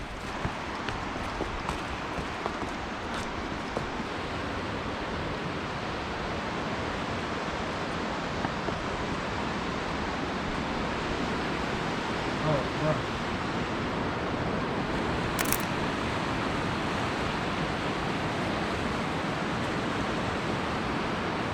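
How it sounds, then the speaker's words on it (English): Flowing water fills a forest near Soddy Daisy, Tennessee, as a steady, soft rushing wash that holds even from start to finish, with a brief sharp tick in the middle. "there's nothing but the sound of the water and the trees and the animals."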